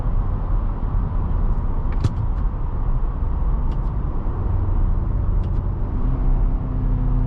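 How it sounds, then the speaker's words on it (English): A steady engine drone and road roar from inside a moving 2023 Infiniti QX80 SUV in rush hour traffic, continuous and fairly loud, with a few faint clicks and ticks over it. "It's a great sounding engine though."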